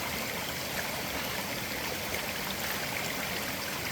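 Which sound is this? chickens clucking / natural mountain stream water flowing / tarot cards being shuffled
natural mountain stream water flowing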